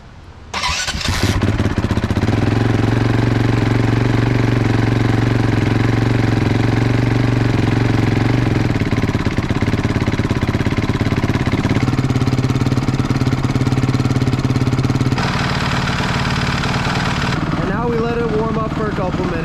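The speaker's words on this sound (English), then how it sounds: "we need to start up the bike." A washed motorcycle's engine cranks and catches, then settles into a loud, steady close-up idle that runs on without a break; near the end the note shifts and fades, with no talk over it.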